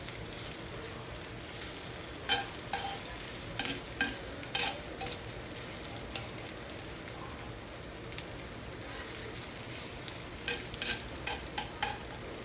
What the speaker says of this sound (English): But you can hear we got a sizzle going.